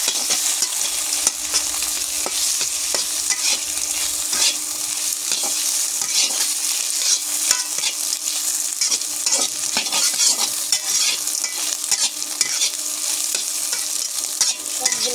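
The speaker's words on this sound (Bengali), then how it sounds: "হালকা ভেজে নেব সবগুলো" Ingredients for a noodle dish fry lightly in a pan, a steady close sizzle with continuous stirring and scraping throughout.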